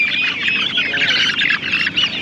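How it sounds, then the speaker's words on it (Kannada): Native country chickens, including Aseel birds, squawk loudly and continuously at a poultry market near Magadi, Bangalore, a dense close chorus of shrill cries. "ಆಮೇಲೆ ಇದು ನಾಟಿ ಕೋಳಿಗಳು."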